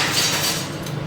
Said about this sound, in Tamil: இப்போ நம்ம கடுகு உளுத்தம் பருப்பு போட்டுக்கலாம்